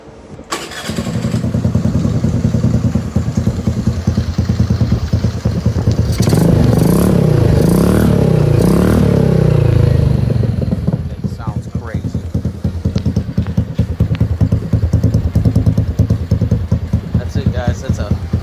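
Honda Navi scooter engine fitted with a cheap $40 eBay slip-on exhaust on the stock pipe, starting up and running close with a raspy, buzzing drone that swells when revved and settles into a steady idle.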